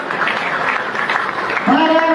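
A crowd at a political rally for a party and its chief minister claps and cheers in a dense, steady burst of applause lasting the whole moment, with voices mixed in.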